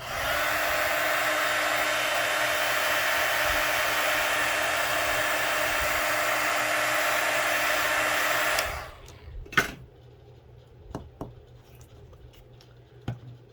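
A hair dryer blows steadily and loudly on matte gel medium spread over a Halloween junk journal page, then cuts off abruptly, leaving a few faint taps and paper rustles in a quiet room.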